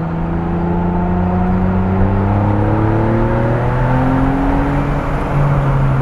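A 2008 Ferrari 612 Scaglietti V12 engine revs steadily higher, harmonic tones climbing together over a continuous roar with no pause, close and dominant throughout.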